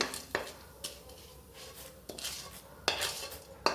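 Roasted chana dal being scooped out of a pan, several distinct metallic spoon scrapes and clinks against the vessel spaced irregularly, close and moderately loud.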